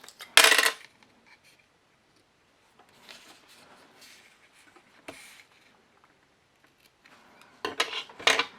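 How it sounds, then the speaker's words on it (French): Scissors snipping paper during a papercraft embossing project, a few sharp crisp cuts at the start and end with faint rustling and handling noises in between, close and quiet otherwise. "Je sais pas ce qu'il a ce ciseau, il veut plus couper."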